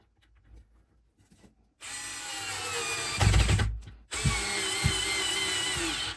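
A Parkside PSSA 4 B2 cordless screwdriver whirs loudly as it drives a 30 mm wood screw into wood, pausing briefly mid-way, after a few quiet handling knocks.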